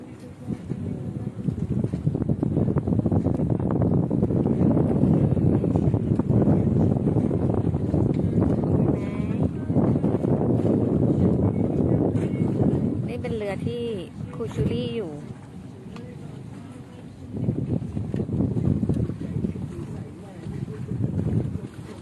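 Boat cruising on the Chao Phraya river, a steady engine and water rumble under strong wind buffeting, with people talking over it throughout.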